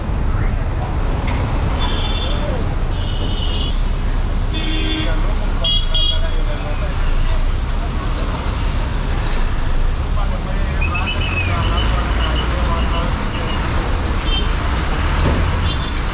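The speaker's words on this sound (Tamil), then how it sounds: "பஸ் இப்போ நிற்கிறது பெருங்களத்தூர் பேருந்து நிறுத்தம்" A Chennai MTC city bus pulls in at the Perungalathur stop amid busy traffic, with steady road and engine rumble throughout, a few horn toots, and someone talking over the noise.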